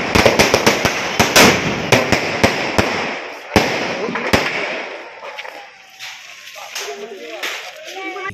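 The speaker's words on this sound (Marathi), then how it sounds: "चाळीत आगमन होताच फटाक्यांची आतिषबाजी करण्यात आली" A string of firecrackers bursts in sharp, loud, rapid bangs to greet arriving visitors at a residential chawl; the popping thins out and stops after a few seconds, leaving crowd noise and voices.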